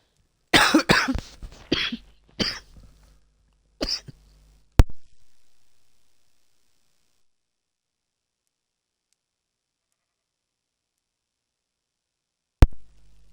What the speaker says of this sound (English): Apparently, counting causes coughs.